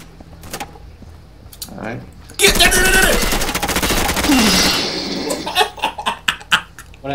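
Gunfire from the Insurgency tactical shooter, a dense burst of rapid shots lasting a couple of seconds, close and loud, followed by scattered sharper reports, with players talking around it.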